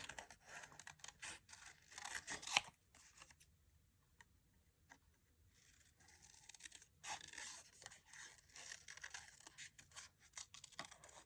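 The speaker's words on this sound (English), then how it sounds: "let's go ahead and fussy cut these out" Paper pieces are fussy cut with scissors: quiet snipping and rustling bursts close by, then a near-silent pause in the middle before the soft cutting resumes.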